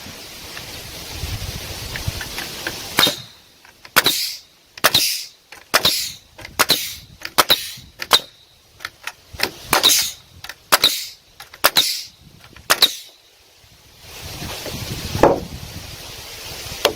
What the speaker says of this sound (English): So all I'm going to now is put some nails in here and see if it works.